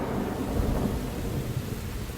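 Steady heavy rain with rumbling thunder, a dense continuous downpour that stays loud and even throughout, with no voices.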